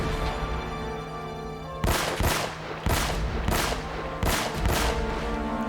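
Pistol fire in Uncharted: Drake's Fortune: a series of sharp, loud shots at a steady, spaced rhythm, about five in all, over a constant backdrop of game music and ambience.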